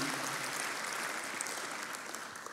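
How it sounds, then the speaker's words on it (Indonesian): A church congregation claps together in a dense, steady burst of applause that fills the whole moment, fading slightly toward the end with no voices standing out. "Beri tepuk tangan yang meriah untuk Tuhan."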